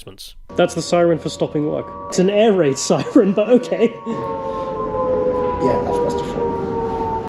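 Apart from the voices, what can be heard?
air raid siren signalling end of work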